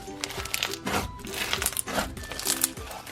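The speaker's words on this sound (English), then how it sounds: "Super, super crunchy." Crunchy Christmas slime squished and squeezed by hand, giving repeated close crackling, crinkling pops in bursts roughly every half second.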